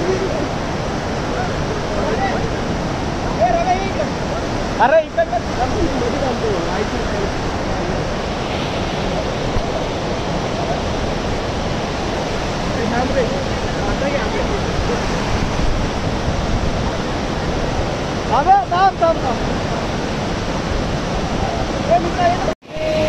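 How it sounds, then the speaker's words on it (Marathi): A strong stream of water flows heavily outdoors as rain begins, giving a steady, loud broadband rush throughout with no pauses, close to the microphone and partly buffeted by wind, with a couple of brief bumps and no talking. "पाण्याचा प्रवाह इथं भरपूर आहे"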